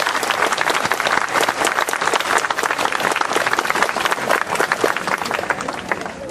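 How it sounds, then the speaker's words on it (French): Steady, dense audience applause from a crowd at a commemorative event for the 1914-18 war, continuous and fairly loud for the full stretch with no voices over it. "Je crois qu'on peut les applaudir."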